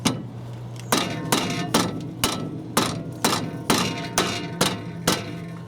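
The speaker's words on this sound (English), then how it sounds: "This rubber mallet, you can hit this all day," Rubber mallet hammering on the brake of a 2009 Toyota Yaris during a brake job: about nine or ten loud, evenly spaced thuds, roughly two per second, close by with no talk.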